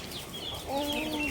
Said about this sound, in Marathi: कोंबडू कोंबडी आहे आणि छोटे छोटे बच्चे आहे तिचे.